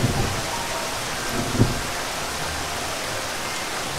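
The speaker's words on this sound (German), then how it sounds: "Das Gewitter wird immer stärker." Thunderstorm with steady rain in the mountains, a dense hiss of rainfall throughout with a brief low rumble of thunder near the middle, no voices.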